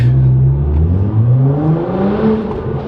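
Nissan GT-R R35 engine revving in neutral, loud and close, a steady low drone whose pitch climbs and falls across the clip, with no distinct pops standing out.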